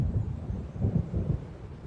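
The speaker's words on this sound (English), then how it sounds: "It seems there's a storm coming." Low rolling thunder from an approaching storm in the video game Alan Wake Remastered rumbles in repeated deep swells, moderately loud and continuous with no speech.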